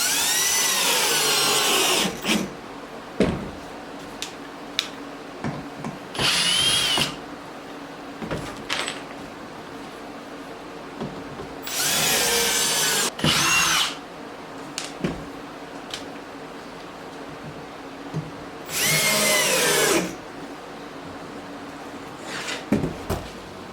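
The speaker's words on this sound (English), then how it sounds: "I'm going to go ahead and pull these screws and put in longer, better screws before I start moving anything around" Power drill driving longer screws into wood on a homemade jerky smoker, several bursts of a few seconds each with quiet handling clatter between them.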